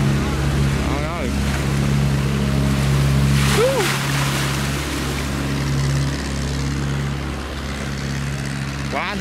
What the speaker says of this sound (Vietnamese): Không biết là cái chiếc xà lan kia là lên được không nha các bạn. Mình thấy là cố lên ga để mà chạy thôi.